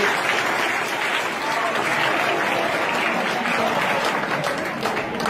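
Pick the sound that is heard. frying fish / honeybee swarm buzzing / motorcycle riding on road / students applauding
students applauding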